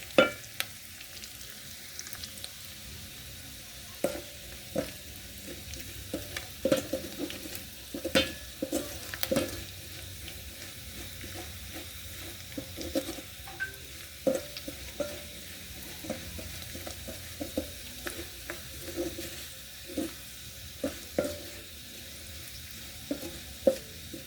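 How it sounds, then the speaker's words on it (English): Ginger and garlic paste fries steadily in a pot for Kenyan beef pilau, a soft, continuous sizzle broken by frequent clicks and scrapes of a stirring spoon, with no talking. "You allow it to cook until the ginger and garlic paste is ready."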